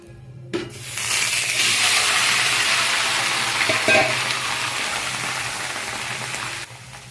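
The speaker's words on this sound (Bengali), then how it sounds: "সবজিগুলো ভেজে নেব" Mixed vegetables hit hot oil seasoned with panch phoron in a pan and erupt into a loud, steady, close sizzle that holds for several seconds before cutting off, with a brief clatter at the start and no speech.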